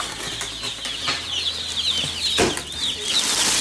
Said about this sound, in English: So these are Cornish cross. And then these ones, this is pullets, barred rock pullets.